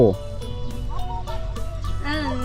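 Chickens cluck in a village in Savannakhet, Laos, with short pitched calls scattered over a steady low outdoor background, close by and moderately loud.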